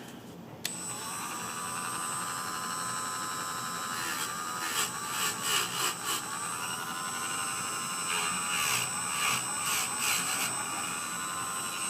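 A Scotch-Brite pad polishes an inside corner of a metal part: a powered tool switches on with a steady high whine, then uneven scrubbing bursts of abrasive contact come and go over it, close and fairly quiet.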